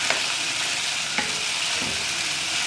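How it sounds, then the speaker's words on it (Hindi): A spoon stirs a frying mixture of ginger garlic paste and soy sauce for a chicken bread roll filling, with a few light scrapes over a continuous close sizzle and no talking. "साथ साथ मैं स्पून चलाए जा रही हूँ चम्मच इसका।"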